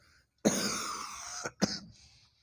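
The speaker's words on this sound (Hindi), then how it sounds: "खांसी हो गई है बहुत जोर से।" A single hard cough bursts out and trails into a rasping throat-clearing, followed by a second short cough, close and alone in a quiet room.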